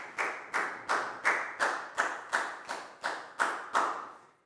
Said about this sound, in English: a big round of applause for Latgal,